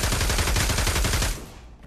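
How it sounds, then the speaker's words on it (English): An M4 assault rifle fires in the VR shooter Pavlov, a loud, tight stream of rapid automatic shots that stops abruptly and leaves a short fading tail. "Now let's get on to the assault rifle, starting with the M4."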